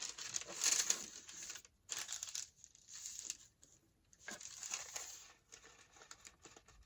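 A paper lunch bag being folded for a craft project gives quiet, close crinkling and rustling in several short bursts separated by brief pauses.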